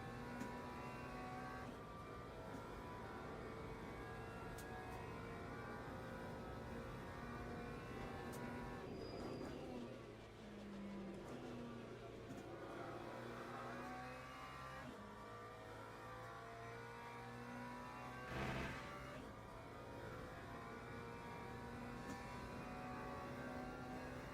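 McLaren race car engine droning steadily in the Le Mans Ultimate racing game, a continuous whining tone that shifts pitch with gear changes, fairly quiet and unbroken, with no voices.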